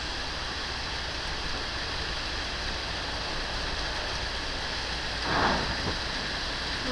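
Downpour from a severe Connecticut storm that also brought hail, a constant loud hiss of rain throughout, with one brief swell of extra noise near the end and no talking.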